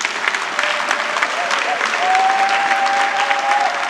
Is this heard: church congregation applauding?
yes